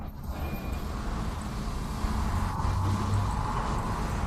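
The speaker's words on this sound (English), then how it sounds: "the traffic keeps flowing in the Dagestani style" Steady street traffic in Dagestan, with a continuous wash of passing cars and heavier vehicles rumbling at moderate distance and no voices.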